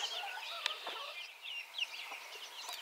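Young chickens softly clucking and peeping near together, a busy overlapping chatter of short chirps and clucks at moderate volume with no talk.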